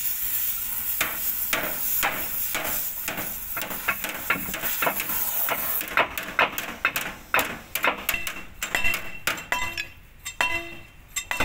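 A grinder cuts away seawater-corroded roller bolts on heavy machinery being restored outdoors in rain, a harsh, close, continuous grinding with rapid metallic clanks that breaks into choppy bursts toward the end.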